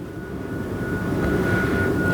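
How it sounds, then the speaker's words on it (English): An airplane passing overhead outdoors, a steady broad engine rumble with a faint high tone, holding at an even, fairly loud level for the whole stretch with no voices. "Another airplane."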